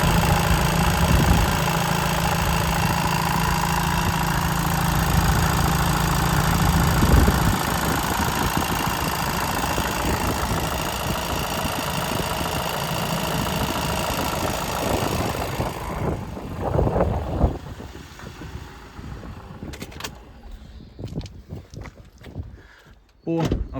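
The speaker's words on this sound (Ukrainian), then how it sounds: "Мотор працює дуже добре" A 2020 Volkswagen Crafter single-turbo van engine idles with a steady droning rumble for a long stretch, then fades lower as some knocks and a door-like clunk come through near the end.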